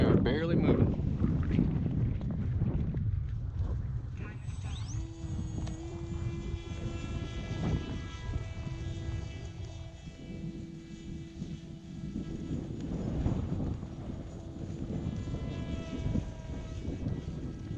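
Heavy buffeting wind roaring on the microphone in a 16 mph headwind outdoors, a small electric model airplane's whine rising and falling faintly behind it, with someone speaking intermittently.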